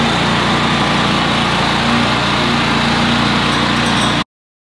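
A slit seeder's engine runs steadily and loud while it grooves a lawn during renovation, a continuous droning mower-like rumble with no pauses until it cuts off abruptly near the end.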